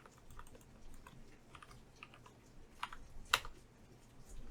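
Faint, sparse keystrokes on a computer keyboard while code is entered in a browser, scattered soft clicks with a couple of sharper taps near the end, no talking.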